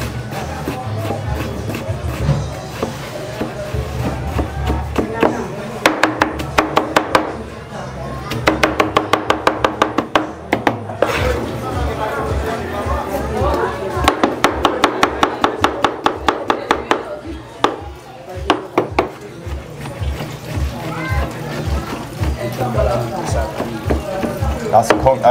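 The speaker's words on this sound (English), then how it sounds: "Big butcher knife chopping up." Big butcher knife chopping conch salad ingredients, including green tomato, on a board: bursts of rapid, sharp, close knocks in fast rhythm, with people talking throughout and a brief trickle of liquid.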